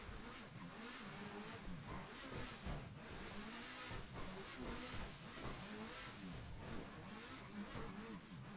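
A car drives steadily through a sewer tunnel in GTA Online, its mid-pitched engine humming and revving continuously with a steady road rumble and no pauses, close and alone.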